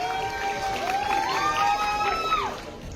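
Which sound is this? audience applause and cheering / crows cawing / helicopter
audience applause and cheering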